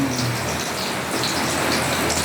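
Heavy rain pours down in a dense, steady hiss and patter, loud and continuous throughout, with no voices.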